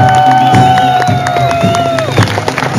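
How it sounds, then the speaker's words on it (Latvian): A crowd applauds and cheers as a Latvian Railway vice president is welcomed onto a stage, dense steady clapping filling the space loudly with a sustained tone over it and no speech. "ar skaļiem aplausiem sagaidām"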